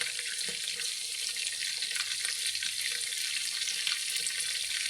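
Chicken frying in oil: a steady, close, bright hiss of bubbling oil with faint crackle, continuous and without talk.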